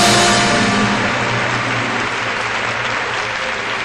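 Studio audience at a TV gala celebrating 50 years of Brazilian television gives sustained, dense applause, loud at first and easing slightly, with no voices on top.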